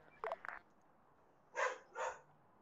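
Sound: dog whining

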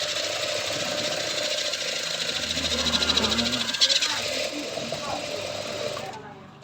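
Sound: sewing machine stitching stretch sportswear fabric

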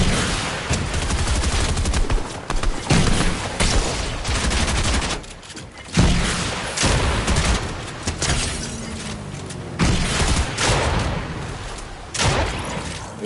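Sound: gunfire in the video game Fortnite

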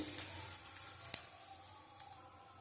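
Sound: panch phoron and dried chili sizzling in hot oil

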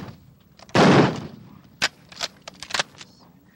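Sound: gunshots at shooting training

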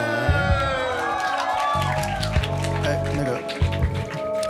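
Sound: audience applauding and cheering at live concert

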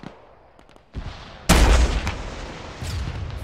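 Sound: gunshots in a military video game (ShackTac)

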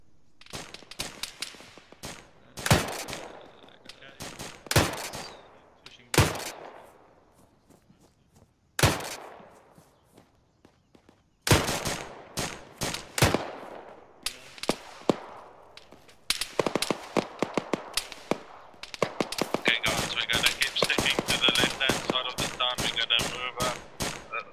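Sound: gunfire in a video game

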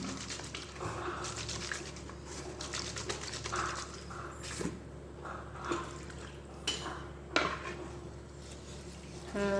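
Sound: shaking water bottle with cleaning mixture inside

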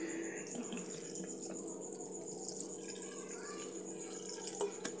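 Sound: cold water poured over drained pasta in strainer

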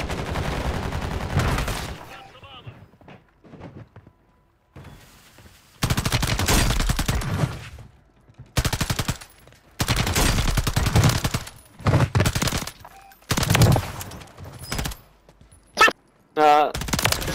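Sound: sniper gunfire in the video game Call of Duty

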